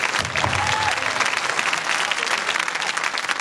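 Dense, steady applause for a contestant at a televised talent show gala, filling the whole stretch at an even loudness with a faint tonal voice or whistle briefly rising above it.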